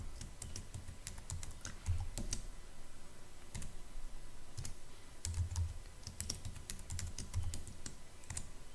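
Keys clack on a computer keyboard as a name and password are typed. The keystrokes come in quick, uneven bursts and sound fairly quiet, with soft room noise behind them and no speech.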